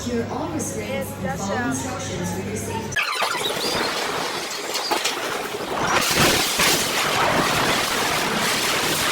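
A roaring, rattling roller coaster (Flying Aces at Ferrari World) rushes past with screams and squeals from riders, loud and continuous, building in intensity toward the end.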